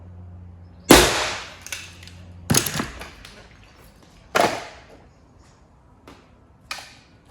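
A dent puller yanking a dent out of a car body panel, several sharp loud snapping cracks at irregular intervals, each with a quick metallic ring-off, close by with no talking.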